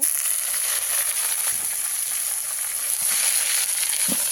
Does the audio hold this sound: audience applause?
no